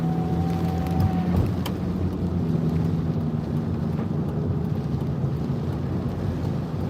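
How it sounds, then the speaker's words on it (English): Heavy tropical storm rain drumming on a car near Tampa Bay, a steady dense wash with low rumbling from inside the vehicle, continuous and loud throughout with no talking. "Rain's really starting to come back."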